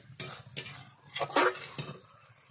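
Shukto vegetables being stirred and fried in mustard oil in a pan, with a utensil scraping and clinking against the pan in several separate strokes, close and moderately loud, with no talking.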